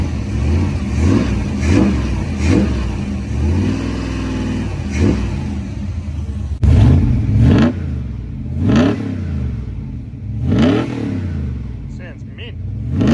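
A 1988 Holden VL SV 88 with carburettor issues revs repeatedly through its muffler, each blip rising and falling in a loud, close, throaty swell, while people talk over and between the revs.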